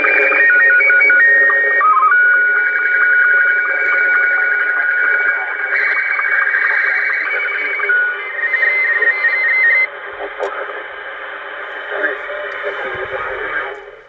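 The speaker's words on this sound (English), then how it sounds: "That is the sound of a slow scan TV transmit" A slow scan television signal is received over radio. Steady, loud warbling tones shift in pitch and run continuously with scanning chirps, plus a few faint clicks near the end.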